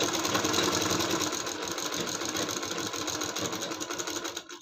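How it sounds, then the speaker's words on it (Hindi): A sewing machine runs continuously at close range, stitching a curved palazzo hem in a fast, even whirring rhythm that slows and stops at the end. "इसी तरीके से गोलाई में सिलाई को लगा देना है।"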